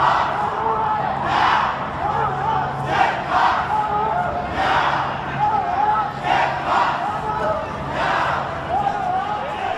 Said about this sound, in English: There's a guy yelling the questions through a megaphone, then getting the response from the crowd.